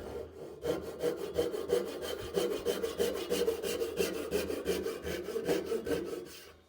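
A Gikoh Ryoba Japanese pull saw crosscuts wood with a fast, even rhythm of rasping strokes, close and loud, continuing steadily for several seconds with no voices.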